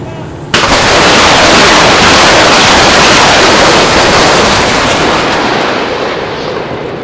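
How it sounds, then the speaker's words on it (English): Military artillery and mortar live fire at a firepower exercise: one sudden loud blast, then a long, dense rumbling roar that slowly fades, heard from a distance in open ground. "the S-2 will fire towards target number 12 and beyond"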